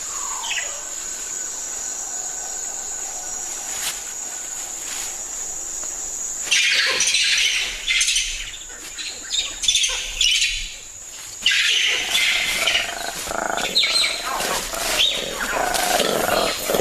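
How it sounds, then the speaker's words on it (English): A Diana monkey gives its leopard alarm call in a forest, a series of loud, harsh, roaring calls repeated in bursts over a constant background of high insect and bird chirps. "That's the leopard alarm call of the Diana monkey."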